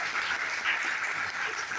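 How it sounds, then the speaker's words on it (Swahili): A church congregation claps together for Jesus during a sermon, a dense, steady patter of many hands filling the room for the whole moment without a break. "Tupigie Yesu makofi mazuri."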